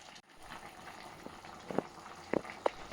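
Chicken curry with raw mango simmers in a pot, giving a faint, soft bubbling bed broken by a few distinct pops and blips toward the end, quiet and close.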